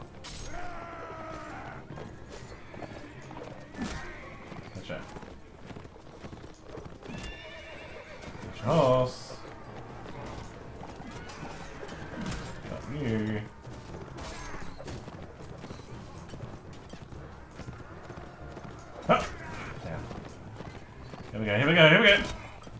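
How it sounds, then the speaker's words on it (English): Horses neigh and whinny with clip-clopping hooves in the medieval combat game Mount & Blade Warband, several sharp whinnies standing out over a steady mechanical clatter of battle sounds, with no talking. "Horses arrived."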